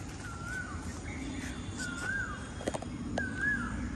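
An Asian koel calls repeatedly in rising, whistled notes, a few seconds apart, moderately distant over a steady outdoor background hum.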